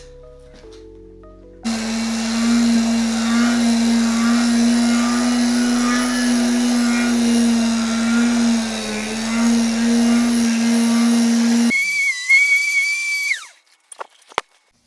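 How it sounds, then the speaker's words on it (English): A vintage aluminum motorcycle engine is polished with WD-40 and Scotch-Brite as a power tool hums steadily for about ten seconds, then a brief higher whine sounds before it stops, with no talk. "Try do a little polishing."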